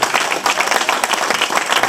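A church congregation at a pastor's 60th anniversary service claps and cheers, dense steady applause with scattered shouts filling the short stretch.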